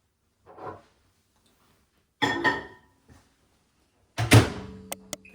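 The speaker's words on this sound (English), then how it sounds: "Pop this in the microwave now." Microwave door handled in a kitchen: a faint soft knock, then a louder clunk and rattle as food goes in, followed by a sharp door closing thud and a few quick beeps of the keypad.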